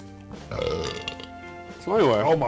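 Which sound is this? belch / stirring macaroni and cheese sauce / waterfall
belch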